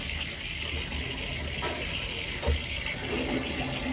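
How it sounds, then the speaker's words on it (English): A toilet flushes in a care setting after a bedpan is emptied, with a steady close rush of water filling and gushing for several seconds, no talking. "Now we're gonna get a towel, flush our toilet."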